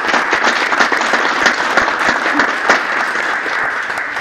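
Audience applause for a student council at a school board meeting, continuous lively clapping from a room of people, steady and fairly close, with no voices over it.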